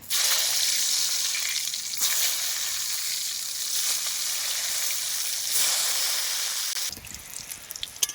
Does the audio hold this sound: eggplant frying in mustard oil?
yes